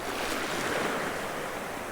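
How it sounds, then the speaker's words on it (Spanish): Sea waves surge and wash continuously around a swimmer in the water in September, a loud, steady broadband roar of surf with some wind buffeting and no talk. "aquí en el mar, junto al mar, y yo estoy metido en el agua disfrutando"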